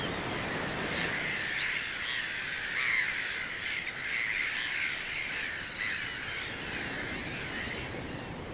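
Seagulls on the Faroe Islands give repeated harsh squawking calls, several overlapping cries rising above a steady wind and coastal rush.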